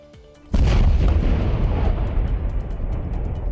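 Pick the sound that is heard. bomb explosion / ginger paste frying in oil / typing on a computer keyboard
bomb explosion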